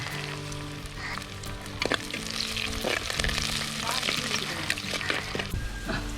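Curry leaves crackle and sizzle steadily in hot oil, with occasional sharp pops and stirring clatter, close and continuous.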